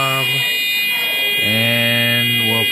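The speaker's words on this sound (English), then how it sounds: "It's an immediate alarm." A temperature alarm buzzer on a breadboard electronics project sounds loud, steady electronic tones that pause briefly and then resume.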